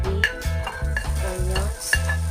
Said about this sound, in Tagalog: First, saute the meat.